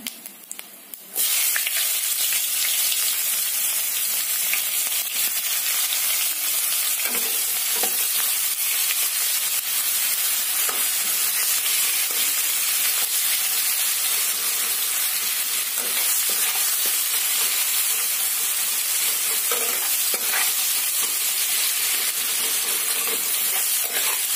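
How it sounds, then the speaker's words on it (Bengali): Onions with cumin seeds fry in hot oil, giving a loud, continuous close sizzle that runs throughout, marked now and then by faint stirring scrapes, with no voices. "এখানে আমার পেঁয়াজটা ভাজা ভাজা হয়ে গেছে।"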